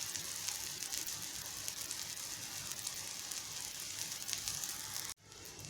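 Eggplant slices fry on a tawa with a steady, close, hissing sizzle that carries on evenly for several seconds before cutting off abruptly near the end.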